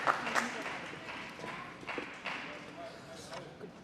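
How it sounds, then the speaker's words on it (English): A stadium crowd roars in sustained cheering after a point in a women's doubles table tennis semifinal at the US Smash, with a commentator talking over the noise. "One of the loudest reactions from the crowd on that shot."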